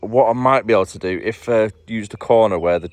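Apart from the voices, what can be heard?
No distinct noise like a dog, phone or traffic.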